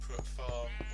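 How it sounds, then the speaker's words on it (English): Brown sheep in a Minecraft survival-world farm give a few short bleats over a steady low background hum, with speech faintly present. "Here's a separate farm where, for reasons I will show you in another video, I was growing brown sheep."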